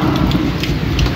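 First rain of the season falling in Lahore in the morning, a loud, steady broadband hiss of rainfall with a low rumble underneath and no pauses.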